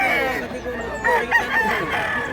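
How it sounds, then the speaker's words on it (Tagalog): A rooster crows repeatedly among many clucking chickens in Mantalungon, Barili, fairly close, with overlapping calls from several birds. "Daghag manok."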